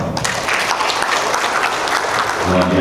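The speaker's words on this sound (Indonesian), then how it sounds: "Dan tepuk tangan" Full, sustained audience applause at a college graduation ceremony, loud and continuous, with a voice starting up near the end.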